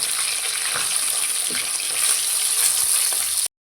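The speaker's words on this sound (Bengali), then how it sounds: "মাছগুলোকে ভালো করে ভেজে নেব" Parshe fish frying in hot mustard oil, a steady, even sizzle with dense crackle that keeps up at a constant level without pause, then cuts off abruptly.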